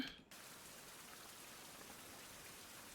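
Rain in the survival video game Survival: Fountain of Youth, a steady even hiss of falling drops that starts abruptly after a brief quiet moment and continues evenly.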